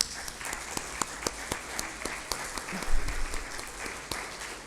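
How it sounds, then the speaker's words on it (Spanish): A church congregation applauds together after a sermon, a dense, steady patter of clapping from a sizable crowd with a few louder nearby claps, heard without talk. "Vamos a darle un aplauso al Señor"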